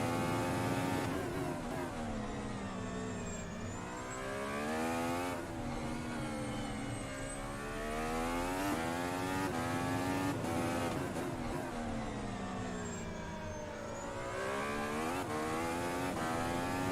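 A Formula Ultimate 2017 race car in the Automobilista racing game on the Interlagos circuit. The engine rises and falls as it downshifts, its pitch stepping down before corners and climbing again, loud and continuous throughout.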